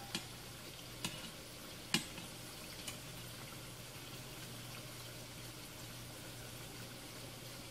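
Spinach pakoras frying in hot oil as they are flipped, a steady soft sizzle with about four light utensil taps, close and faint.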